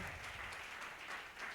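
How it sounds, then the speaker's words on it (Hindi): Applause from a congregation at a church sermon, a steady dense clapping that fills the whole moment without any talk. "जोरदार ताली खुदा की जलाल के लिए बजाएं।"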